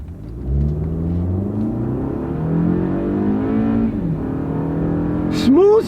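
Toyota Camry pulling away hard from a stop with traction control off, its engine note rising smoothly and dropping at each quick, seamless upshift through a multi-speed transmission, loud and close inside the cabin.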